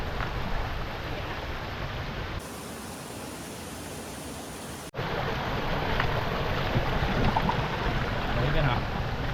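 A waterfall in a valley, heard as a steady broadband rush of falling water that continues without a break across the whole stretch, with a brief change in tone midway, and voices may be faintly present.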